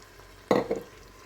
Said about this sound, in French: Je mélange un petit peu.